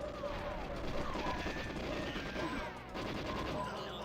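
GoldenEye 007 video game gunfire crackles in rapid bursts over a dense, busy layer of in-game noise, with repeated shots running through the whole stretch at a fairly low level.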